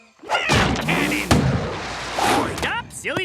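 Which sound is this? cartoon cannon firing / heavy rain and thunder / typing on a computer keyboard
cartoon cannon firing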